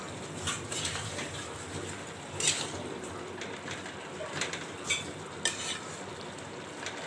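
Papaya being stir-fried in a pan with cumin and chili paste alongside fried hilsa fish, giving a steady low sizzle broken by occasional sharp scrapes of a spatula against the pan.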